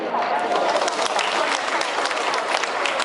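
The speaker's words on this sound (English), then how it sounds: "Once again, a big round of applause." A crowd claps in sustained applause at a gala cocktail evening aboard the cruise ship SuperStar Virgo, a dense patter of many hands holding steady throughout, with no talking.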